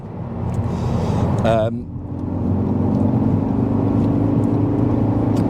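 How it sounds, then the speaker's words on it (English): A remapped Ford Focus ST Mk3 engine drones with a low, steady growl while driving, rising slightly in pitch, with a brief voice near the start. "really, really growly, grunty engine"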